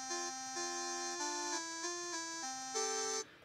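An 8-bit Nintendo-style synth from Ableton's Chip instrument plays a short run of bright square-wave notes, clear and steady in a stepped melody, with no voices.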